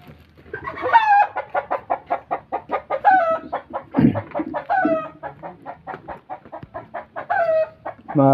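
A chicken clucks close by in a quick, steady series of short clucks, broken now and then by louder, drawn-out calls.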